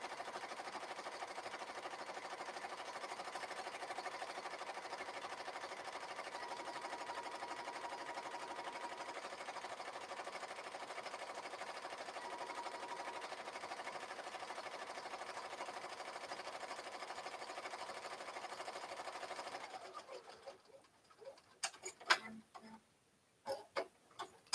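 A sewing machine stitches steadily for about twenty seconds while packaging Etsy orders, a continuous mechanical whir, before stopping and leaving a few scattered clicks and handling noises.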